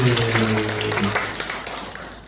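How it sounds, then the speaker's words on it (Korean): A temple congregation at a Buddhist dharma talk claps together, a dense wash of applause that fades gradually, with a speaking voice briefly overlapping at the start. "목소리가 우렁찬 우리 기도 스님 지범 스님을 위해서 박수"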